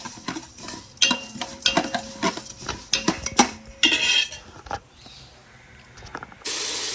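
Cashews and raisins roasting in a pan, with repeated metal utensil scrapes and clinks against the pan in uneven bursts, a faint sizzle underneath, close and fairly loud, ending in a steady hiss.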